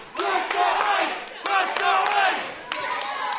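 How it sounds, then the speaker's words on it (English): At a live wrestling show, the crowd roars and yells in loud bursts, with a brief lull and then another surge of shouting and cheering from the audience. "This crowd has come to life."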